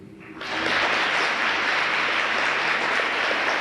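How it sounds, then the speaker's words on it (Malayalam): Applause for Hillary in a class breaks out after a brief quiet moment and holds as a dense, steady wash of clapping to the end, with no voices over it. "നമുക്ക് ഹിലാരിക്കൊരു കൈയടി കൊടുക്കാം"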